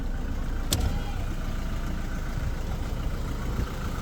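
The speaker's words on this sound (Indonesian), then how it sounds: "Nah ini kalau mau dengerin suara mesin ya, halus." A 2019 Toyota Hilux 4x4 pickup engine idles smoothly and steadily at close range, a low even rumble with a brief click partway through.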